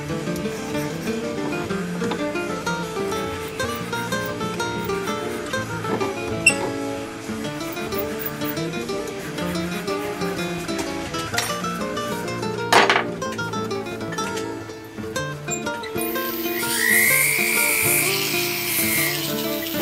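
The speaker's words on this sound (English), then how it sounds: "So what I'll do with this file is I will just take the height down a little bit." A hand file rasps back and forth over the metal prongs of a diamond setting, a faint, steady scraping that continues throughout, with a brief sharper burst near the end.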